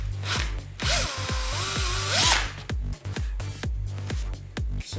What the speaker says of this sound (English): we'll just drill a little hole in this